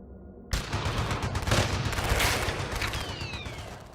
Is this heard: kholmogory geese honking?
no